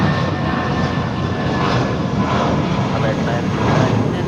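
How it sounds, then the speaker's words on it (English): A Spirit Airbus A319 departs from the south side of LAX toward Atlanta, a continuous loud engine rush and rumble with possible radio voices underneath. "departing now on the south side at LAX, Spirit 631 off to Atlanta. It's an A319."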